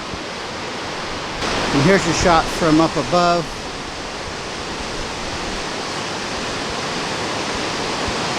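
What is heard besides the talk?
waterfall torrent roaring near Baie-Comeau, Quebec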